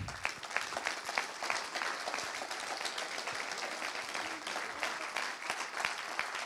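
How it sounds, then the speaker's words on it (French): Audience applause at a political rally in Saint-Nazaire: a dense, steady wash of many hands clapping that holds at full strength throughout, with no voices rising above it. "Oui, vous pouvez applaudir"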